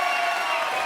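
Studio audience clapping steadily on a French evening talk show, a dense, loud wash of applause heard alone for about a second.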